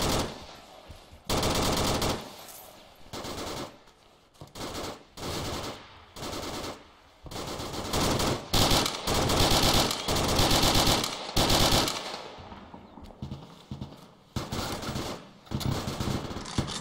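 Automatic machine gun fire in a military video game mission from the Soviet side, long loud bursts of rapid shots repeating with short gaps, nearby and dominant throughout, with no talk over it.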